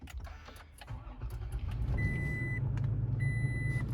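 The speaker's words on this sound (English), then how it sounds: "I'm gonna start the engine first" A 2021 Toyota Tacoma TRD Off Road pickup's engine turns over and settles into a low, steady rumble, with a couple of brief high electronic tones over it.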